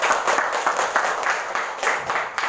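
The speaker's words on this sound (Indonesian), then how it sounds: "coba ini tepuk tangan kelompok 1" A group of high school students in a classroom claps together on cue, making a dense, even wash of applause that holds steady for a couple of seconds without talk.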